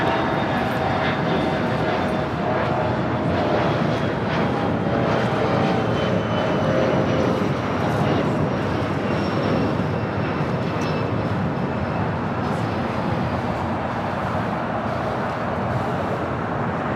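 A jet airliner takes off from runway 25 right at LAX, its engines roaring loudly and steadily for the whole stretch with a whining high tone, while faint radio talk sits underneath.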